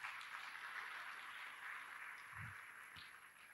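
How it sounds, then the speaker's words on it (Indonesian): Applause from the audience at a university graduation ceremony, a steady distant wash of many hands clapping that lasts the whole stretch, faint and diffuse in a large hall, with no voices over it. "Tepuk tangan untuk kita semua."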